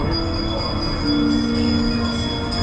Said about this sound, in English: give us a hint by ringing the bell